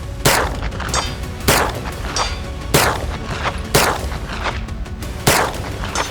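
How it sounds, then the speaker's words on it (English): Five loud, sharp gunshots from a Kuna roller-delayed 9mm pistol-caliber carbine, fired at an IPSC target at a range, spaced about a second apart, each with a short echoing tail, with no voices. "We're gonna go ahead and do about 3 consecutive shots at 170 on the IPSC target"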